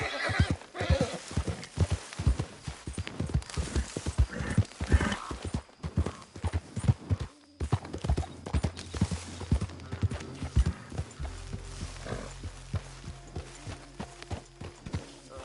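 A horse in the video game Red Dead Redemption II gallops with fast, rhythmic hoof clip-clops and gives a neigh. Then it slows while a low rumble enters, all up close and heard without speech.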